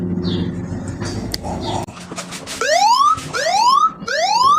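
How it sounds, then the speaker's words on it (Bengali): A mobile phone anti-theft alarm wails in three rising electronic sweeps, each repeating after a short break, loud and close, following a muffled stretch of handling noise. "তখনও যদি অ্যালার্ম বাজে তাহলে কেমন হয়?"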